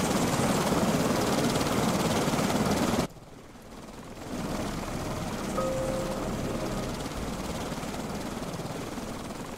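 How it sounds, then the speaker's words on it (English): Gyrocopter engine in the survival game Stranded Deep droning loudly, then cutting abruptly and winding down to a quieter, lower hum that carries on steadily with a faint tonal whine. "So the engine slowly died down"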